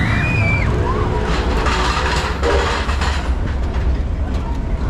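The Mr. Freeze roller coaster at Six Flags Over Texas roars past close overhead, a loud, continuous rumbling rush with rattling track noise that swamps everything else.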